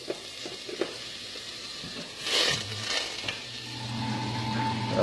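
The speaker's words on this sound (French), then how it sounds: "Après, je mets sauter les oignons." Onions sautéing in butter in a pan for mushroom soup, a steady soft sizzle with a few stirring scrapes and clinks, close and moderately quiet, no voices.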